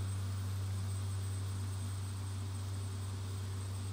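A steady, droning aircraft engine hum in the X-Plane 10 flight simulator, throttled back during cruise; an even, continuous tone holds at a constant level with no talking.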